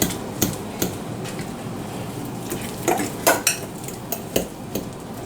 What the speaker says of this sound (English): Okay, then I'm just going to mix all of this in.